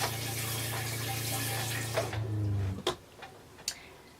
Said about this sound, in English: to get the water flowing, you'll need to press on the pedal and press on this button right over here.